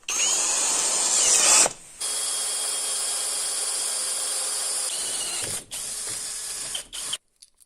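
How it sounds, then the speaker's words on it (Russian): An 8 mm bit bores through a metal plate, a loud steady power-drill whine that runs with brief pauses, cutting out near the end. "Сверлышко на 8."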